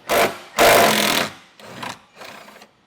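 Exterior door hinge bolts are backed out of a closed door on a 2024 Jeep Wrangler with a power tool: two loud, close whirring bursts, the second longer, then two shorter, softer bursts.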